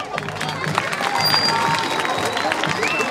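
A school crowd at a 23 April children's celebration applauds the winner of an apple-bobbing contest, giving steady, close clapping and murmuring throughout while a presenter talks over it on a microphone.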